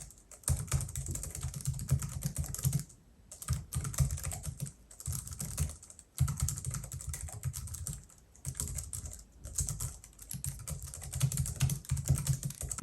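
Steady typing on a Logitech MX Keys keyboard, soft low-profile keys tapped in quick continuous bursts with brief pauses between phrases, close and clear with no voices.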